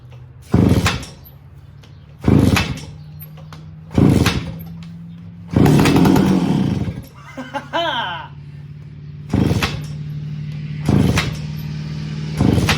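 A 25-year-old motorcycle bought for $100, during an attempt to start it: several loud, separate bursts of effort over a steady low hum, then a short sputtering pop as the engine briefly catches, with no voices.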